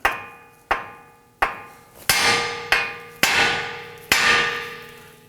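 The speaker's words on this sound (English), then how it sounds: "Now I'm going to use my hammer and I'm going to whack the end here of our knuckle" Seven sharp metallic hammer blows on a Toyota Camry steering knuckle to release the outer tie rod, evenly spaced about once every 0.7 seconds, each ringing briefly before the next strike.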